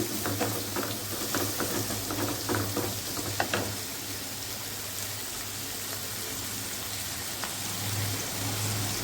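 Onion and tomato with salt sauté in a pan for dal, giving a soft continuous sizzle, with light stirring clicks and scrapes in the first few seconds before it settles into a quieter, even hiss over a low hum.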